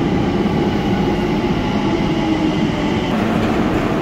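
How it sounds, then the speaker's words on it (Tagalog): A train in Catalonia rumbles along steadily with a dense, rattling roar, loud and close, continuous throughout with no voices. "ang ating sasakayan na tren"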